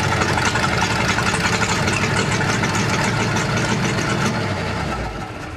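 A 350 V8 swapped into a 1994 Toyota 4Runner idles steadily and loudly up close, its even low rumble running throughout before easing off slightly at the very end, with no throttle cable connected.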